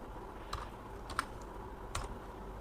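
Light typing on a computer keyboard while writing Python code, a few soft, sparse key clicks at close range over faint room hiss, with no talking.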